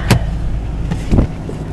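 Engine of a 1985 Toyota Cressida with a rebuilt motor, idling just after a cold start in Canadian winter, a steady low rumble with a couple of brief mechanical clunks over it.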